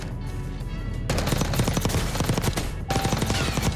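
SMG fire in Warzone: rapid continuous bursts of automatic gunfire, loud and close, starting after a second and running with a brief break near the end.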